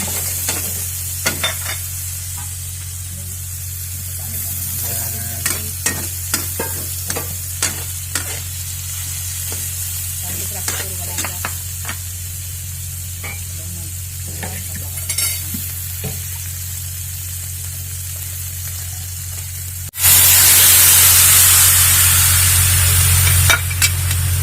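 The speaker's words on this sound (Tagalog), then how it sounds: "sili para manghang, sibuyas, bawang, at luya. Ayan. Lutuin na natin yan." Chili, onion, garlic and ginger sizzle and are stirred in a hot pan, steady frying hiss with scattered scraping stir clicks, then a sudden louder burst of sizzling near the end as more goes into the pan.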